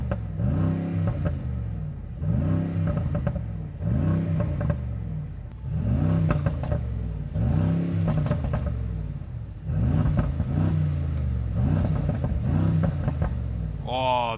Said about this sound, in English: Having the side pipes here, having the extra Brabus sound, more cracks and pops.